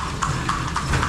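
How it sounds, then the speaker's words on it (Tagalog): Horse hooves clip-clop on the pavement of Calle Crisologo, a heritage street in Vigan, Ilocos Sur, Philippines, sounding as a steady, close four-beat rhythm over low rumbling background noise. "Grabe ang kabayo."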